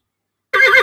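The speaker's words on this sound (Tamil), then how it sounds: "குதிரை கனைக்கும்." A horse gives one short, loud neigh that starts abruptly after half a second of silence.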